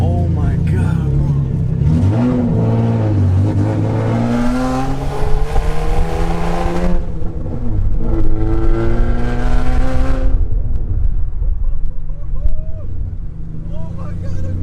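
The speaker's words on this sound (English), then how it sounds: "I'm driving my G35, dude" A cammed Infiniti G35 with a freshly rebuilt engine revs loud and close while driving, the tone climbing and falling through several pulls, with excited voices now and then over the roar.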